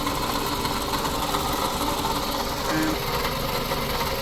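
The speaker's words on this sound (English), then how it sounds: "that's pretty loud. That's the alternator." Under the hood of a 2007 Scion tC, the running engine gives off a loud, steady mechanical whine and grinding rattle from a noisy alternator. The noise is close and continuous, and one word is briefly spoken.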